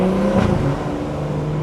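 A Stage 2 BMW B58 engine under hard driving revs loudly and then drops as it shifts gear, a brief close burst with steady droning afterward.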